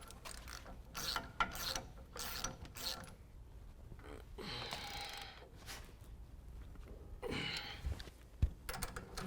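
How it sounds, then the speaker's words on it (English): A ratchet socket wrench tightens a bolt while a lift kit goes onto a 2017 Silverado 2500 HD, making close, loud bursts of rapid clicking that repeat in several separate runs with brief pauses between them. "We're going to use a 9/16" wrench and a 5/8 socket in order to tighten this down"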